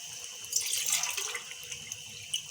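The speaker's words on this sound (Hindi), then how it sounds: "2 गिलास मैंने पानी डाला है।" Water is poured into a pot of kofta curry with potatoes, a soft steady trickling and splashing that runs close and fairly quiet for a couple of seconds.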